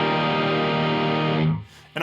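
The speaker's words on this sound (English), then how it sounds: "So I added this DC9 tube screamerish overdrive." Electric guitar driven through a DC9 Tube Screamer-style overdrive pedal rings out as one sustained, harmonically rich chord that cuts off abruptly, followed by a short attack of a new note at the end.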